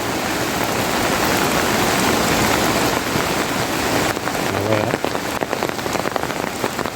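Heavy monsoon rain pours down in Konkan, a dense, loud, unbroken hiss of drops on surfaces that thins slightly toward the end.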